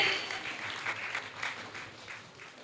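An audience claps at a Jain devotional lamp-offering gathering in Shalimar Bagh, a steady patter of many hands at moderate volume filling the short stretch without voices.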